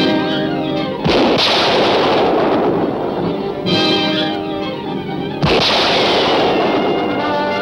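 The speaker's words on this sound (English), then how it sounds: "Keep firing." Dense, continuous gunfire and booming blasts from a 1943 film serial, loud and sustained, with sharp bursts striking near the 1, 3.7 and 5.4 second marks over a constant roar.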